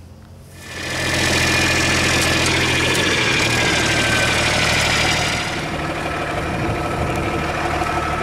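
A John Deere 3020 tractor engine running on custom blended fuel, pulling through field prep for corn planting: a steady, loud diesel drone with a knocking, vibrating tone that swells in after a quiet start and holds alone throughout.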